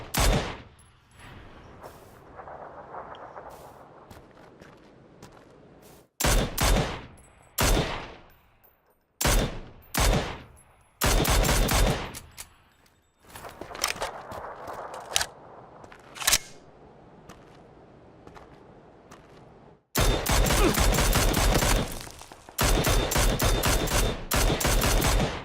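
Gunfire in a battle royale shooter game: bursts of rapid automatic shots alternate with single cracks and short pauses, loud and close, ending in a long sustained volley.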